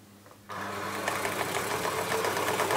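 Elna L4 overlocker serger sewing super stretchy fabric, starting abruptly after a quiet moment and then running as a loud, steady, fast mechanical hum close to the microphone.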